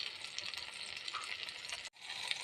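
River prawns frying in a pan make a soft, continuous hiss and sizzle, broken by a very brief drop near the end before the frying noise resumes.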